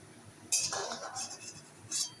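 A metal utensil clinks and scrapes against a pan while fried potatoes are lifted out during home cooking, with two short, close bursts of clatter and no talk.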